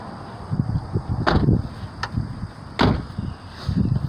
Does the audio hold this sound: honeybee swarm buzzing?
no